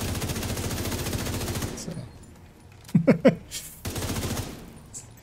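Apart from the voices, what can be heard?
gunfire shooting in a video game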